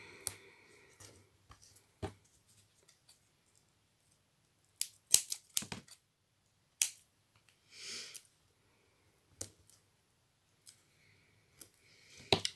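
Sharp, sparse scissor snips cutting foam tape for card-making, a handful of quick clicks scattered through quiet with irregular pauses between cuts.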